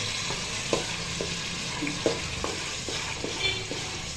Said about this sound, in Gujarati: મરચાં લહણ મસાલો બધું નાખી દીધું. હવે થોડું હલાઈ નાખીએ.